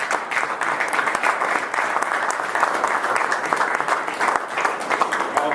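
An audience at a high school students' event on hip hop and history applauds steadily, dense clapping at a constant, full level with no break throughout.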